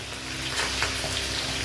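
Sliced onions and garlic fry in a pan for chilli chicken, giving a steady, fairly quiet sizzle with faint crackles and no talking.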